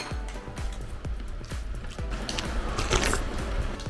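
Green-lipped mussels from a hot mussel soup are chewed close to the mic, giving a quick run of wet, crunchy bites in a steady rhythm.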